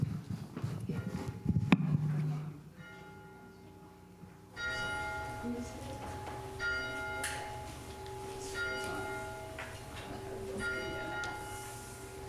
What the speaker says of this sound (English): We will begin our service with the ringing of the bell and the lighting of the Christ candle.